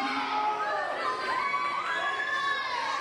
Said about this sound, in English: Yeah, I know everybody keep clapping for Cortland